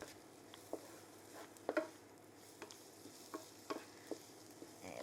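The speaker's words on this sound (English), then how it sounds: "Give that a big stir around." A spoon stirs chilli con carne in a pot on gentle heat, giving a few soft scraping, squelching strokes over a faint sizzle, close and quiet, with no talk.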